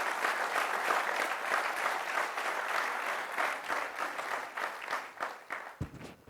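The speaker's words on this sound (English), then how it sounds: "Clap, you can clap for this," Audience clapping at a Forever Living training session in India, a sustained roar of many hands that holds even and steady, then thins into scattered claps near the end.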